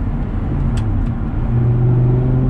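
Loud, close Audi R8 V10 engine rumbling deep and steady through a new exhaust system, with the pitch climbing as it revs toward the end.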